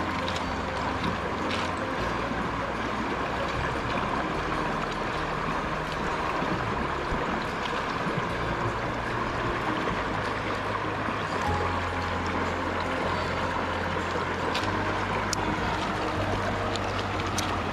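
Creek water flows in a wilderness setting, a dense, continuous rushing and gurgling that stays even and fairly close for the whole stretch, with no voices over it.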